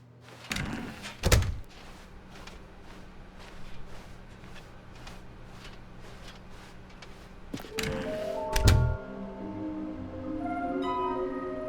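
In the video game The Stanley Parable 2, a door opens with two heavy thunking knocks, then a quiet stretch of soft rhythmic steps and another pair of solid thuds, followed by a lingering tonal hum.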